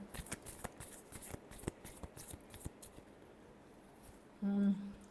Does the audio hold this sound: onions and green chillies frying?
no